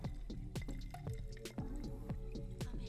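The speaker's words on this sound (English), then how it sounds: "open up my carbonated water and kind of just pour that right in." Carbonated water poured into a drink in a glass, giving a steady run of small drips, splashes and fizzy bubbling, fairly quiet and close, with no voices.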